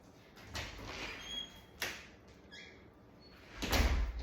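A door is opened during loose-leash training with a nervous dog: a few soft, brief knocks and a sliding scrape spread over several seconds, followed by a louder rustle at the end, in a quiet room.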